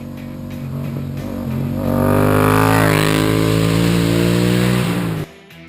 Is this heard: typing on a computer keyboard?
no